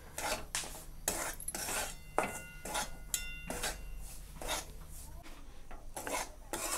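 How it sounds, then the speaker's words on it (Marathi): Semolina roasting in ghee in a pan for rava ladoo, heard as close, repeated scraping and rasping strokes of a spoon against the pan at a steady, uneven rhythm, with no voices. "तर आपल्याला ह्या तुपावर आता छान असा रवा भाजून घ्यायचा आहे।"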